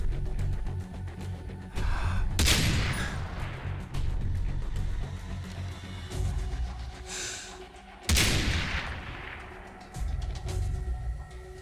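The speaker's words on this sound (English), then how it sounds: "Best thing to do is just to shoot the mines." Far Cry 3 gunfire setting off mines: two strong, sharp explosive bursts ring out several seconds apart over a steady low game-world rumble, each blast decaying with a long crackling tail.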